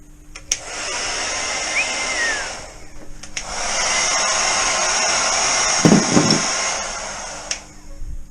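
A cheap Argos hair dryer blows on painted roll bar brackets in two loud, steady whooshing bursts separated by a short pause, with brief clatter partway through the second run.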